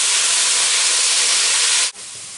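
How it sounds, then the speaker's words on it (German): Meat roasting in fat in a pot for Sauerbraten gives a loud, steady broadband sizzle and hiss that holds evenly, then drops off sharply near the end and continues a little quieter. "Und das lassen wir jetzt so ungefähr 8 bis 10 Minuten anrösten."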